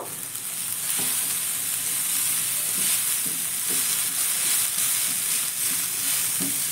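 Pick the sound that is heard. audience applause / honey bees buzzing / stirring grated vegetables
stirring grated vegetables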